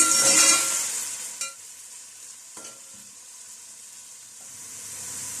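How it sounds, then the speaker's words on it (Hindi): Sliced onions frying in hot oil in a pan for pulao, a steady loud sizzle at first with brief stirring clatters, settling into a quieter continuous crackle that swells slightly toward the end. "प्याज को इसमें लाइट गोल्डन होने तक फ्राई कर लेते हैं।"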